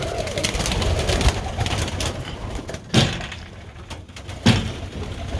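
Birmingham Roller pigeons of the George Mason line, red grizzle nest mates, cooing in a loft amid steady rustling background, with a few louder thumps or flaps standing out.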